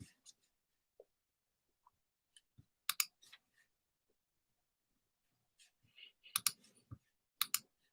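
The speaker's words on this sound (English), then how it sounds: "let me just click on my MetaMask here" Sparse, sharp computer mouse clicks, a few single taps spread out and then small clustered bursts, close and quiet in an otherwise still room.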